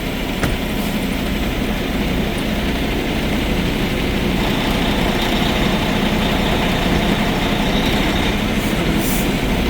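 A semi truck's diesel engine idles with a steady, close rumble while the rig reverses during driver training, a continuous low drone with no break and no talking.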